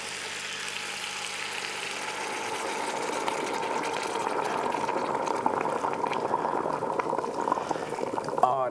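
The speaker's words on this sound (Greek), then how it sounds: "Βραστό νεράκι." Boiling water poured into a cooking pot of salted stew with dill, a soft continuous liquid rush and bubbling hiss that grows slightly louder and more turbulent, heard fairly quietly and close.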